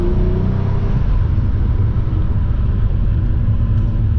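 A Cadillac CT4-V Blackwing engine drones steadily and loudly while the car is driven on the road, a constant close-up rumble with no speech.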